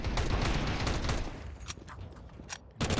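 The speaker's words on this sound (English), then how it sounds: "Astari gets dinked with the M4" Gunfire from an M4 rifle in a competitive Counter-Strike match, heard as rapid, loud bursts of shots that thin out midway and then return in a final sharp burst.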